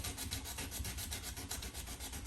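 Sandpaper rubs back and forth across a wooden surface in steady, rapid strokes, a close, even scratchy rasp throughout with no talking.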